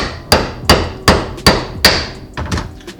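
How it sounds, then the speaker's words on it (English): Seven sharp metallic hammer strikes on a bolt being driven into metal on a race car, in a steady rhythm, close and loud, each ringing briefly before the next blow. "I'm just going to put it in and then hammer it lightly"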